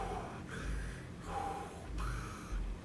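Darth Vader's mechanical respirator breathing from Obi-Wan Kenobi, slow rhythmic hissing inhales and exhales repeating about three times, steady and close under a low rumbling background.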